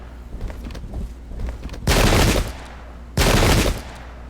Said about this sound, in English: Getting some very effective musket fire there.